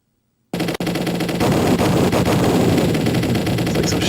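Shoot-'em-up video game gunfire from Carrier Airwing on an Evercade arcade cabinet: after a short silence, a dense, continuous burst of rapid machine-gun-like shots runs loud and steady to the end.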